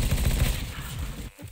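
Rapid bursts of gunfire in CS:GO, loud and close, firing in quick rhythmic volleys before cutting off.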